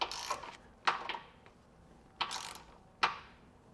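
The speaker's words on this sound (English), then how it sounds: "you want to make sure to come back with a torque wrench and completely tighten everything down" Torque wrench tightening base plate hardware on a 2024 Chevrolet Trax: four distinct ratcheting pulls, each a short burst of clicks with brief pauses between them, fairly close and moderately quiet, with no voices.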